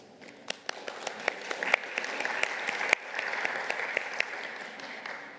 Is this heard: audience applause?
yes